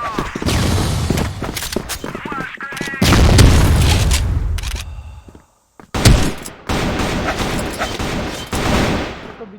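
Rapid bursts of gunfire from the Crossfire first-person shooter, loud and dense, with repeated volleys broken by a brief silent gap midway.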